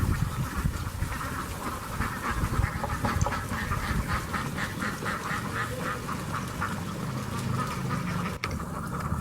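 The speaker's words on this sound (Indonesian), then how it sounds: "Bebek di lumpur, Pak." A dense, continuous chorus of many ducks in mud quacking together, steady and loud throughout, like a crowded flock nearby.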